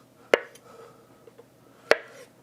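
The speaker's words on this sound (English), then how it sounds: "just go ahead and chop them all up" A knife chops hard-boiled eggs on a board in two sharp, separate strokes, with a couple of faint taps between them and no talk.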